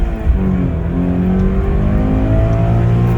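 A 2020 Toyota 86 accelerating hard in first gear, a loud, close engine note rising steadily in pitch as the revs climb, with no talk.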